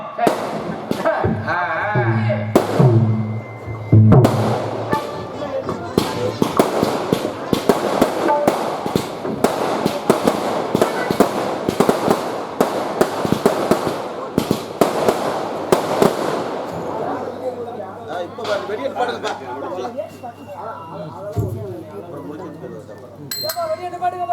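Firecrackers pop in a loud, dense crackling volley at a village drama performance of Valli Thirumanam in Karungulam, bursts overlapping for over ten seconds before thinning out, with voices chattering underneath throughout.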